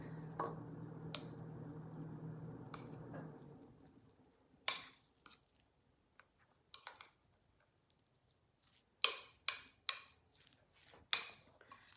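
Chicken salad is stirred in a bowl, first a soft wet mixing for about three seconds, then scattered sharp clinks and taps of a utensil against the bowl, close and intermittent.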